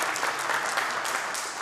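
A youth-incarceration panel audience breaks into brief, dense applause, a steady wash of many hands clapping at moderate volume for under two seconds.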